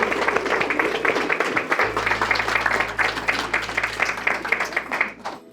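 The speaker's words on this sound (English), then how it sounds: "I think they deserve a round of applause." Wedding guests applaud steadily after the vows at an autumn ceremony at Edworth Manor, a dense wash of moderately close clapping lasting several seconds over a low steady hum before trailing off.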